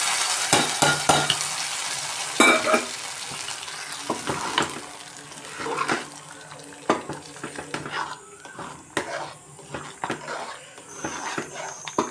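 Spices for pongal sizzle as they temper in hot oil, a bright, continuous fry heard close up, broken by sharp clinks and scrapes of a spoon stirring the pan.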